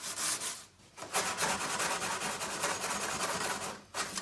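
Dry, steady rasping of 80-grit sandpaper over body filler on a car, continuous loud scrubbing strokes with a couple of short pauses, close up and without talk.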